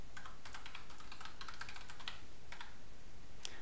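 Keys on a computer keyboard are typed in quick irregular bursts of soft, close clicks, with brief pauses between runs.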